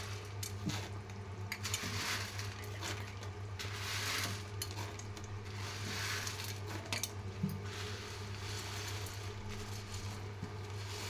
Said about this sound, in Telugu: ఇప్పుడు మనం ఇందులో బూందీ బూందీ వేసుకోవాలి